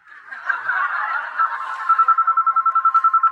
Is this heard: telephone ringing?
yes